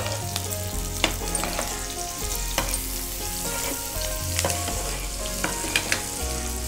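Ginger and garlic fry in hot oil with curry leaves, green chillies and turmeric, giving a steady close sizzle broken by sharp crackles and pops, with no talking.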